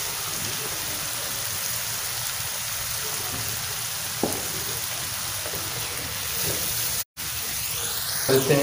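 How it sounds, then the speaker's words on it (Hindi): Fennel, chilli, turmeric, salt and dry coriander frying in a pan for masoor, a continuous rain-like sizzle throughout, with a brief spoken phrase and a clatter near the end. "1 से 2 मिनट इसको भून लेते हैं।"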